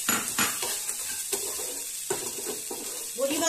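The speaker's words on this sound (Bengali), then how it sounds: "আমি এর মধ্যে এবার বড়িটা মিশিয়ে দেবো" A spoon scrapes and stirs in a pan as sun-dried lentil dumplings are mixed into fried neem leaves with eggplant, with a steady sizzle of oil and a few sharp metallic knocks throughout.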